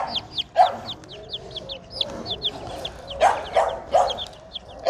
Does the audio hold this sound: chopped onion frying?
no